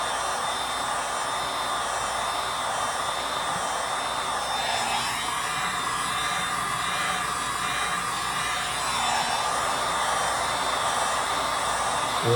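A heat tool blows steadily on the bridge of a 1943 Martin D18 acoustic guitar, giving a constant close airy roar, like a hair dryer, with a brief shift in tone partway through and no talking.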